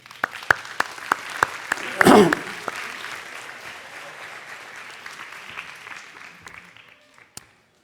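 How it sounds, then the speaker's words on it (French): Audience applause at a mayor's New Year greetings event in Saint-Germain-Nuelles, a moderate burst of clapping with a louder peak early on, fading out toward the end. "si vous le permettez, on les applaudit à distance"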